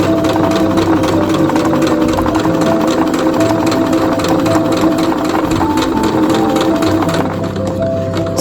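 Sewing machine running steadily through a seam, a loud continuous mechanical hum and rhythmic stitching chatter held at an even level, easing slightly near the end.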